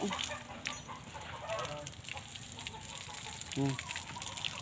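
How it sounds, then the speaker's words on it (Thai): A chicken clucks softly a few times amid outdoor background noise, with brief bursts of nearby chatter. "ลักกี้ อย่าไปกัดไก่พะลูก"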